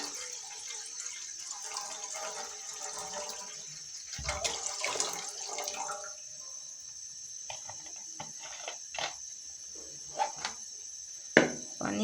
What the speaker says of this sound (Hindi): पानी हम इतना डालेंगे कि उसके ये जितने में ना अच्छे से चावल गल जाए